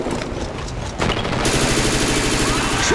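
Rapid automatic gunfire from submachine guns in a first-person shooter match, a dense continuous burst that grows louder and fuller partway through, with no talk.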